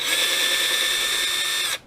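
A power drill whines steadily at high pitch while driving screws on an X-Maxx steering servo, one continuous close burst lasting under two seconds before cutting off abruptly.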